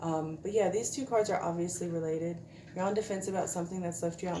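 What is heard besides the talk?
None of the usual background noises is heard.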